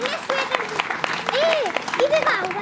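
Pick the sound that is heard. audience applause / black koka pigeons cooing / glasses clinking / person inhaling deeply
audience applause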